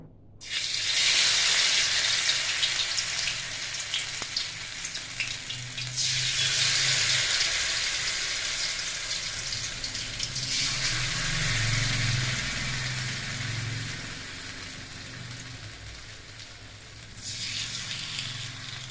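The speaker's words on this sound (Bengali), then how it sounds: "এইভাবে আস্তে আস্তে আমি সব বড়াগুলো ভেজে নেব।" Gedal leaf fritters coated in rice flour batter fry in hot oil, a loud, steady hiss and crackle that swells and settles in waves, with low bubbling underneath.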